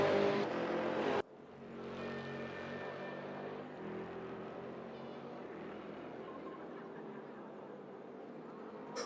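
Racing cars including a Ferrari and a Corvette roar around Suzuka in Gran Turismo, a steady loud engine drone with shifting pitch and a brief sharp cut near the start, no voices over it.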